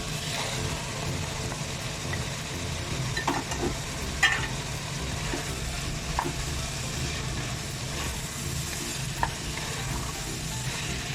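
Carrots cooking with softened tomatoes in a pan for a Pakistani mixed vegetable dish, a continuous soft sizzle under occasional stirring clicks and taps.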